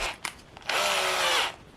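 A handheld power drill with the chuck turning freely: a short trigger tap, then a loud, steady whine held for about a second before spinning down, with no speech.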